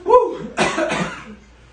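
A single person gives a brief, harsh cough close by, followed by a raspy exhaling hack that trails off quickly.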